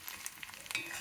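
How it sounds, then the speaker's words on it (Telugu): Onions frying in hot tempering oil in a pan while dondakaya pachadi is made, a soft continuous sizzle with light stirring scrapes, close and steady with no talk. "ఇది ఇలా కొంచెం మనం చూసి కొంచెం ఎర్రగా కాస్త గోధుమ రంగులో వచ్చే వరకు వేయించుకోవాలండి"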